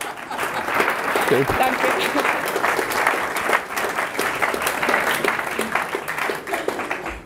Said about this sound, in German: Einen großen Applaus einmal für unsere Wirtin.